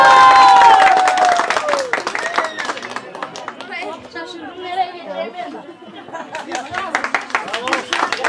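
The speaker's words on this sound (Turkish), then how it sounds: "Alkışlarımız var." At a Turkish engagement ceremony (kız isteme) in Shkorpilovtsi, Bulgaria, a crowd claps in scattered bursts. The clapping is mixed with lively chatter and voices talking over one another, and it grows denser again toward the end.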